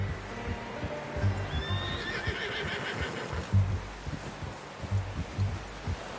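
A horse in Red Dead Redemption 2 lets out a clear, drawn-out whinny over a rhythmic low thudding, with steady ambient background throughout.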